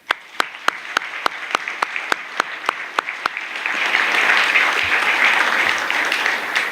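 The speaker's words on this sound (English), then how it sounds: "if we can get a round of applause for the teachers in the room," A room full of people applauds the teachers: a dozen loud, steady rhythmic claps up close, then a broad swell of continuous applause from the whole audience.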